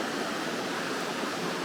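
Water rushes and splashes over stone on sheer cliffs in a South American landscape, a steady broadband hiss like a small waterfall, fairly soft and continuous with no voices.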